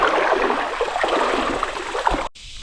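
Creek water flows and gurgles steadily in an outdoor stream beside a large rock ledge, a close, continuous wash that cuts off abruptly near the end.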